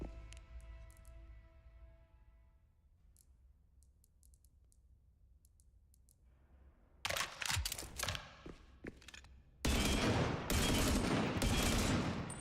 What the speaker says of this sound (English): Is this the LMG? I think it gets faster and faster, doesn't it?